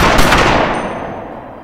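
A loud, close burst of gunshots from a scene in the 2007 French film 11,43 cracks out at once, then its echo fades away over the next second or so.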